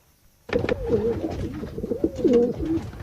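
A racing pigeon cooing close by, several soft throaty warbling coos rising and falling in a loose rhythm after a quiet start, with faint rustling and no voices.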